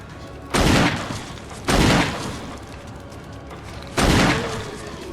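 Three loud, close gunshots ring out in Resident Evil HD Remastered, each a sharp heavy blast with a short decaying tail, spaced unevenly about a second and then two seconds apart.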